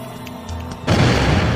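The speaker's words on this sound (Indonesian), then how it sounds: "Bangit bus Upin terbalik dan meledak di sini." In a cartoon or game, a bus overturns and explodes: faint knocks give way to a sudden loud boom that settles into a sustained roaring rumble.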